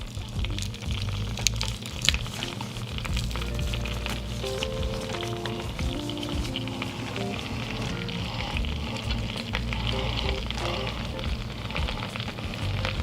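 Minced garlic sizzling in melting butter in a pan for Cajun butter chicken thighs, a loud, dense, continuous fry hiss with a few sharper pops, heard alone and close.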